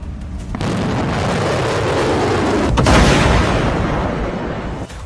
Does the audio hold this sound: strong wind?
no